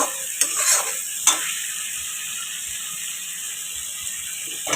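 A spoon scraping and stirring a thick cooked-down masala for a soybean dish in a pan, a couple of sharp scrapes near the start and then a soft steady sizzle with occasional faint taps.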